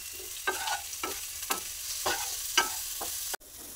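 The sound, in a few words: frying and stirring vegetables with salt and turmeric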